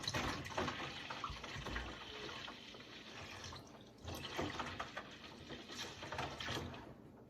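Sanitizer liquid pours steadily into a sink, a continuous close splashing and gurgling rush with a brief dip partway through, and no talk.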